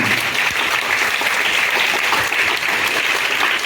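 Dense, continuous applause for quiz teams at a Hindi school quiz quarter-final, loud and close throughout with no speech over it.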